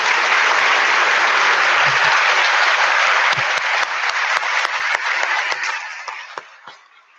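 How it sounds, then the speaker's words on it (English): A conservation event audience gives the speakers a round of applause. Dense, loud clapping fills the room at first, then thins into scattered single claps and dies away toward the end. "I think we deserve a great round of applause for the speakers"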